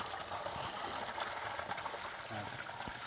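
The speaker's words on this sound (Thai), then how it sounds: "ตอนนี้น้ำไหลล้นออกมาแล้วครับ" Water from a solar-powered pump system spills over and runs steadily, a continuous close splashing trickle with no pauses; faint bird calls sit in the background.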